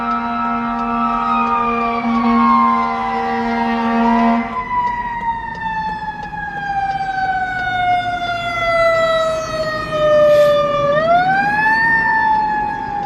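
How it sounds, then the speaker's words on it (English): A wailing fire engine siren sweeps up and down, loud and close as it passes, with a deep horn-like tone early on and road rumble underneath. "Let's let this siren go by. This fire engine."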